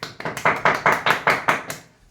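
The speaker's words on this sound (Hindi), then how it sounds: "स्वागत करिए जोरदार तालियों के साथ।" Audience applause greeting a guest lecturer at a Hindi syllabus talk, a burst of hand claps in about eight surging waves over two seconds, close and fairly loud, tapering off at the end.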